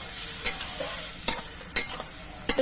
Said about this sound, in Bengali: এবার এই মশলা দিয়ে আবার কিছুক্ষণ কষিয়ে নেবো